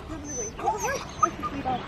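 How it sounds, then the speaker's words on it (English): Excited dogs whimper and yip in short high whines before a walk, fairly close, with a person talking softly underneath. "The dogs are getting excited."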